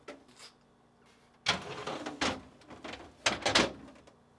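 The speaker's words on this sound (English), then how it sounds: "pull the drawers out so that they are fully extended, tilt up, and pull out to remove" Plastic deli pan drawers in a GE refrigerator slide out to full extension and are lifted free: a faint early scrape, then several louder, close sliding rattles and knocks.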